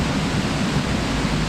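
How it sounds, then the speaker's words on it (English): A waterfall seen from a high point about to be jumped from, heard as a steady, dense roar of rushing water, constant and loud with no breaks. "What a beautiful waterfall though."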